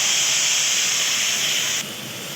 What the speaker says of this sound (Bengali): এই 5 ফোড়নের মধ্যে ঢেলে দিলাম।